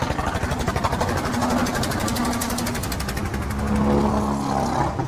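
A 2013 John Deere 5045D tractor idles at a tractor market, its diesel engine chugging in a steady, even rhythm up close and loud throughout, with no talk over it.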